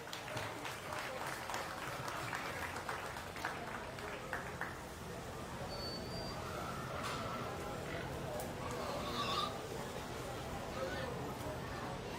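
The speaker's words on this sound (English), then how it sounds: "Let's go ahead and give these exhibitors a big round of applause." An audience at a county fair swine show applauds the exhibitors with steady clapping, mixed with crowd murmur and an announcer's voice in a large show arena.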